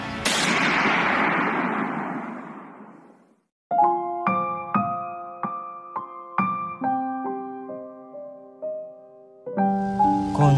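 A firing squad lets off one loud, close volley of gunfire that echoes and fades over a few seconds, then ringing musical notes follow.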